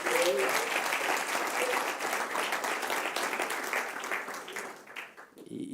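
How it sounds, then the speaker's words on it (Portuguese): An audience in a church applauds loudly, a dense, sustained wave of clapping that stays strong for several seconds before thinning out near the end, with a few voices mixed in. "Só quem entendeu, aplauda forte o nome dele."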